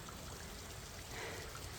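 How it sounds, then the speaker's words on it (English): Steady rushing water from a waterfall along the Appalachian Trail, a broad, even hiss with no breaks, moderately loud and without voices. "The Lord provided a beautiful waterfall to cheer me up."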